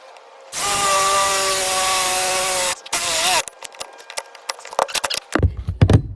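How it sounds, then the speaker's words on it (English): A power drill whines steadily at close range for about two seconds while drilling a hole in the roof of a Mercedes Sprinter van, then sputters in short bursts, followed by clattering and knocking. "now we are going to drill our second hole for the roof mount on the front"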